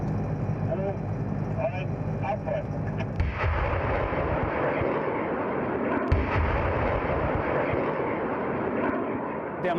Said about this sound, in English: The Mars 2 rocket launcher.